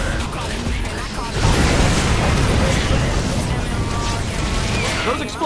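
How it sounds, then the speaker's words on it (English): Explosions from an enemy attack in StarCraft 2, a dense rumbling barrage that swells loudly after a quieter start and continues steadily to the end, with a voice talking over it. "Those explosions you hear, that's the other guy is attacking you."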